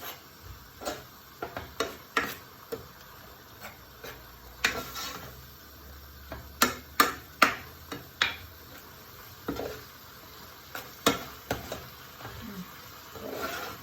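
Minced beef filling cooking in a pot over rising heat, heard as a soft background sizzle broken by a series of sharp spoon scrapes and clinks against the pot, spaced irregularly across the stretch.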